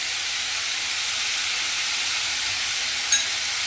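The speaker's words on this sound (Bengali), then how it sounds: "নুনটা দিয়ে বাঁধাকপিটা একটু ভাজা মতো করে নিয়েছি।" Shredded cabbage frying with salt in a pan gives a steady, bright hiss that is close and even throughout, with one brief sharp click near the end and no voices.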